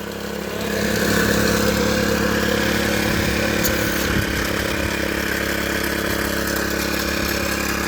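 Engine of a fodder-cutting machine runs steadily at raised revs, a loud continuous mechanical drone with a rattling low-end throb and no speech.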